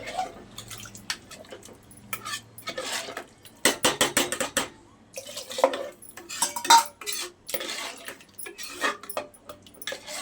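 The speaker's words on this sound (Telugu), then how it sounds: "నీట్గా అంతా కలుపుకునేసి" A pan of pea masala curry in coconut milk is stirred with a metal spoon, giving irregular scraping clinks and knocks in bursts against the pot, close and fairly quiet with no talk.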